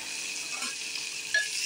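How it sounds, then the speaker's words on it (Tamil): Steady sizzling of finely chopped small onions (shallots) frying in a pan, a continuous hiss with faint stirring scrapes. No talking. "இது ஆனியன் நல்லா வதங்கட்டும்"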